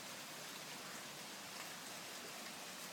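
Pouring rain in a thunderstorm makes a steady, dense hiss of falling water, fairly faint and even throughout with no distinct thunderclaps.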